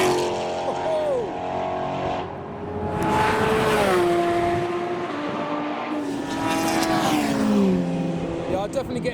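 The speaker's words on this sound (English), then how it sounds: "we've got the V6 Capri, the supercharged Atom, and the GR Yaris making not as much noise" A V6 Capri, a supercharged Atom and a GR Yaris race past on a track day circuit, with engine notes rising and falling through gear changes and a brief tire squeal, mid-distance and steady, while voices talk over them.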